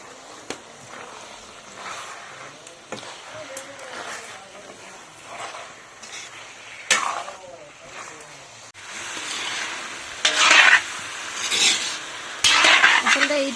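Meat with a spoonful of turmeric frying in a large wok-style kerahi, with irregular scraping and stirring strokes against the pan over a low sizzle that grows louder and more hissing toward the end.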